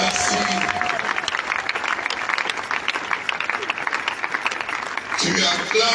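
A church congregation applauds and cheers during a pastor's sermon, dense clapping and crowd noise throughout, close and loud, with a voice calling out over it.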